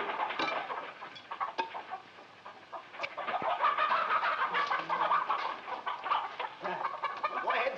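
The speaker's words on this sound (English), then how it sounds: "feed the chickens" Farm chickens cluck and chatter busily at feeding time, a dense flock of overlapping calls that rises and falls at close range, with no voices over it.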